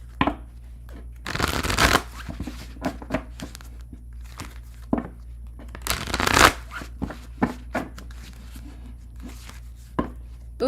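Tarot cards being shuffled by hand in a few quick riffling bursts, close and crisp, separated by softer handling rustles and taps.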